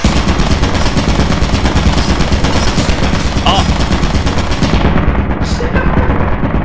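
An automated turret in Lethal Company fires a loud, continuous rapid stream of shots up close, with players' voices briefly cutting in over the din.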